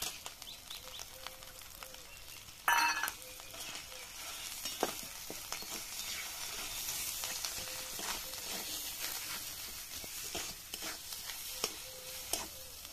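Green peas tipped into a village-style pan of homemade fried spices with asafoetida, giving a steady broad sizzle with a sharp burst as they land, then continued hissing and light stirring scrapes.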